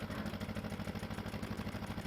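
A tractor engine runs steadily in Farming Simulator 15, with a steady mid-pitched throb and a rhythmic pulsing clatter that stays constant and fairly close throughout, with no voices.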